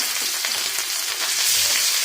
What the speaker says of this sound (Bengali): মাছগুলো সব দিয়ে দিলাম, মাছগুলো ভাজি হইতেছে